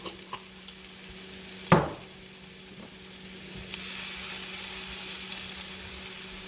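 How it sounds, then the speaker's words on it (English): Onions and garlic sizzle in a pan for beef stroganoff, a steady hiss with a sharp clatter of the spoon as the mix is stirred, the frying growing brighter and louder toward the end. "You're going to stir this for a few seconds until your onions are translucent"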